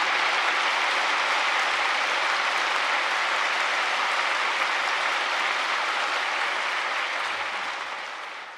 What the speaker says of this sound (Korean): 큰 박수 해주시면 감사드리겠습니다.